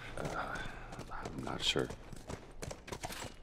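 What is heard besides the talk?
horse hooves clip-clopping in video game The Last of Us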